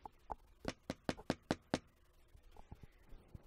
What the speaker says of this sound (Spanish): cuando tocaron una puerta